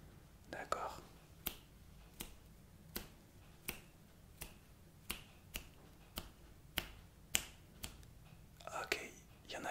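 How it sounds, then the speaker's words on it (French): Crisp ASMR finger snaps at a steady rhythm, roughly one every 0.7 seconds, very close and quiet, with brief whispering before and after. "Je vais faire des claquements de doigts."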